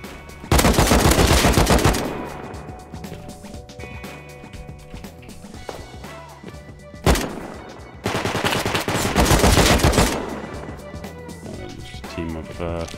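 Loud bursts of automatic gunfire in the survival game Rust, two long heavy volleys separated by a sharp single crack, with game music and ambient tones underneath and a player's voice talking between shots.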